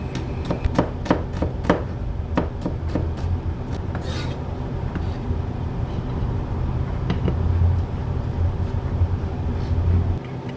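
A knife chopping vegetables on a cutting board while preparing Thai nam tok pork salad, a rapid run of crisp, close chops at first, then slower scattered cuts with rubbing and scraping.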